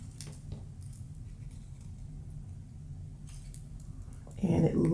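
Scissors snipping lace for a burlap tag, a few soft close snips, faint beneath a woman's speech, ending with a brief louder rustle.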